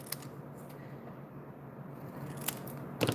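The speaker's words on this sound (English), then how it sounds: "So I'm just going to use my scissors and cut." A few crisp snips of scissors cutting paper for a stamped card, spaced apart and close by, with quiet rustling in between.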